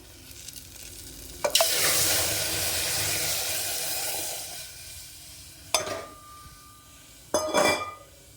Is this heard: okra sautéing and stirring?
yes